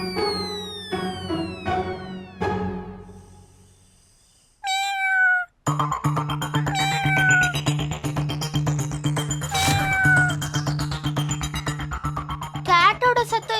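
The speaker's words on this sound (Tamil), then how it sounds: "கேட்டோட சத்தம் எங்க இருந்து வருது?" In a Tamil TV drama scene, a cat meows a few times amid music with chimes and tinkling tones. The meows are clear and moderately loud, with some speech around them.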